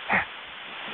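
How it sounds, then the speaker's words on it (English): A dog gives one short, sharp bark during a game of fetch beside a motorcycle, close and brief, followed by quiet background hum. "I'm playing fetch with a dog from a motorcycle."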